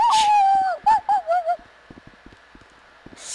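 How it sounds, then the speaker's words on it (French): Dogs whimpering and yelping in a high, wavering whine at the start, followed by a few short sharp bursts and then scattered faint thuds in a quiet room. "C'est des putains de chiens."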